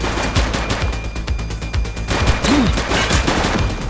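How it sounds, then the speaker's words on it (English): Rapid bursts of gunfire from a police shootout in the video game The Precinct, loud and dense, with automatic fire rattling continuously over a rumbling backdrop and no talk. "She's shooting!"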